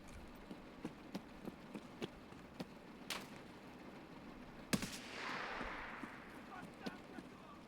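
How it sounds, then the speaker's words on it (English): Scattered gunshots in Escape From Tarkov 1.0 PvE, a steady series of sharp single cracks spaced about every half second, with one louder nearer blast mid-way trailing into a brief hissy rumble, over faint background ambience. "Somebody was shooting at me."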